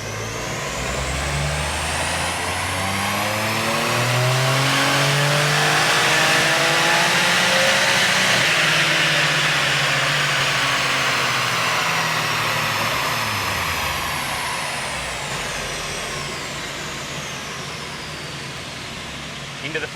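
A high-performance car with about 16 pounds of boost revving on a dyno in Intelligent drive mode, the engine note climbing steadily to a loud sustained peak and then easing down, with a voice talking over it.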